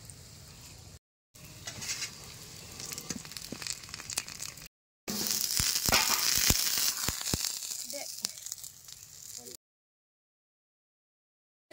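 A puffed rice snack cooks on a hot tawa, giving a soft, broken sizzle with crackles and scraping that swells louder in the middle stretch, then cuts to silence near the end.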